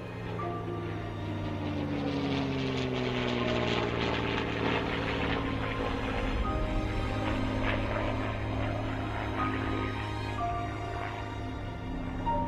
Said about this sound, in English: This wonderful Spitfire that I flew in 1944 on a delivery flight from the factory is coming in this afternoon